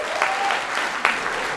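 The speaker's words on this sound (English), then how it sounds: "Round of applause." Applause from a comedy club audience fills the room for about a second and a half, an even, dense patter of many hands at moderate volume with a couple of sharper claps standing out, and no voices on top.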